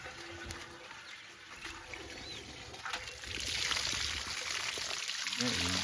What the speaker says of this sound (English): I'm just gonna continue to flush.